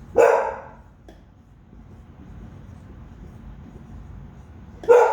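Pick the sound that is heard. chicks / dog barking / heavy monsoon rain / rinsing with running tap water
dog barking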